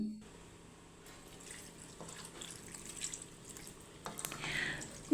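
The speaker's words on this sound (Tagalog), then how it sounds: "Isang tasang tubig." A cup of water poured into a pot while cooking a bangus recipe, a faint trickling splash that swells toward the end over quiet kitchen background.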